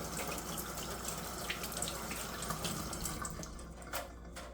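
Steady running tap water splashing close by as a knife is rinsed, a continuous hiss with small bursts of splatter, no voices.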